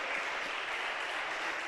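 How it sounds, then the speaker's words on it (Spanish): Church congregation clapping loudly together during a worship service, a dense, steady wash of applause filling the room with no voices over it. "vamos a darle palmas fuertes al Señor"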